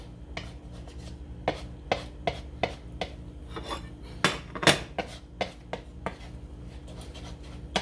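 Eggs being scrambled in a pan for chicken fried rice, a utensil scraping and knocking against the pan in irregular taps and scrapes over a low steady hum, close and moderately loud.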